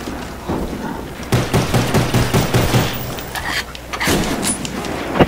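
Rapid automatic gunfire from the Call of Duty Black Ops zombies mode plays in quick bursts, loud and close, with booming shots and short pauses between volleys.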